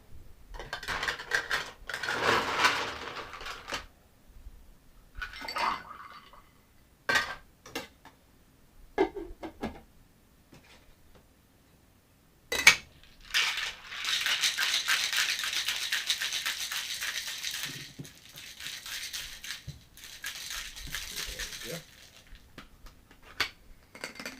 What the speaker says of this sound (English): And then you want to shake and strain with ice.